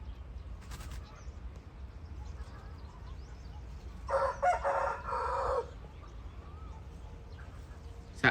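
A young rooster crows once, strained and somewhat distant, over quiet outdoor background with a few faint clucks.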